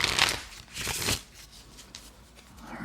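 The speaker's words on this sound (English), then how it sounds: "I'm going to shuffle out some action cards here for Yakeem." Action cards for a tabletop game are riffled and bridged up close, several papery bursts followed by softer fainter card handling, with no voices.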